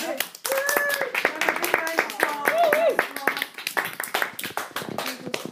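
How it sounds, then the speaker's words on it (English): Small group clapping after a classroom presentation, a few seconds of scattered, fairly close handclaps mixed with chatter and a brief whistle or hum over the top. "Round of applause."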